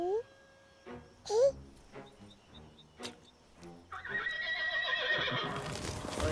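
Horses whinny twice in quick high neighs near the start, followed by scattered hoof clops and knocks, then a louder wash of noise takes over at the end.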